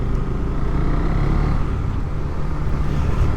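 A KTM 390 Duke motorcycle engine drones loudly and steadily from close by, with rumbling low tones and rushing wind noise as it rides along.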